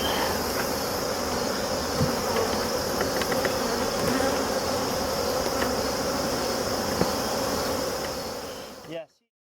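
Honey bees humming steadily in and around an opened double-deep brood box hive during winter preparation, a dense continuous drone that cuts off abruptly near the end.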